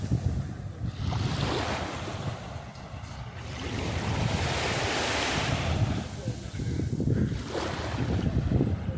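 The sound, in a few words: beach with waves and wind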